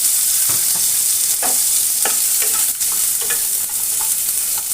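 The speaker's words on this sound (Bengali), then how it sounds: "আলুটা ভাজা হতে হতে" A small cut potato fries in oil with bay leaf, a piece of cinnamon and a cardamom pod, giving a loud, continuous hiss close by, with occasional scraping clicks of a spoon in the pan.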